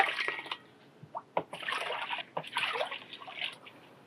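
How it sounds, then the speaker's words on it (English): Water poured onto a potted jade plant in a greenhouse, giving faint, uneven trickles and splashes in short bursts, with no talking. "Let's just add a little more water."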